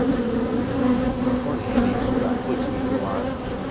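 Honey bees swarm around a hive, making a dense, continuous buzz that stays loud and close throughout, with no one talking.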